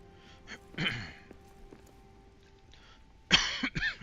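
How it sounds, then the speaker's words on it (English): A couple of short coughs and a throat clear, fairly close, with a quiet stretch between them and a harsher burst of coughing near the end. "you heard me coughing"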